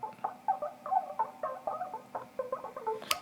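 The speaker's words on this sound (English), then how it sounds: "There's a little strange, interesting voice percussion thing that's going on in the original track." Quiet, clicky vocal percussion: short mouth pops and chirps in a quick, uneven rhythm, ending in a brighter sharp burst.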